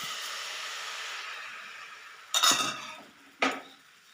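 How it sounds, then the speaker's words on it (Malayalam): Batter spooned into an oiled appam pan for a Kerala breakfast: a steady soft sizzle for about two seconds, then two sharp metallic clinks of spoon against pan, with no voices. "അപ്പം പാനിലേക്ക് കുറച്ച് എണ്ണ തടയി കൊടുക്കാം. ഇനി ഇതിലേക്ക് 1 സ്പൂൺ മാവ് ഒഴിച്ച് കൊടുക്കാം."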